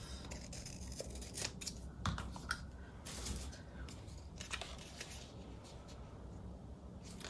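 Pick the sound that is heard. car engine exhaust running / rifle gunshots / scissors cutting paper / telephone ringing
scissors cutting paper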